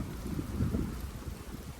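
Wind gusting outdoors during a light drizzle near a heap of harvested groundnuts in a field, heard as a steady low rumble of buffeting on the microphone with no one talking.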